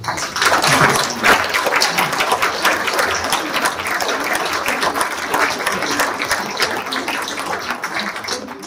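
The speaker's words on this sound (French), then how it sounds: "Je pense qu'on peut applaudir." Dense, steady audience applause fills a ceremony hall, many hands clapping continuously at close range and fading slightly at the end.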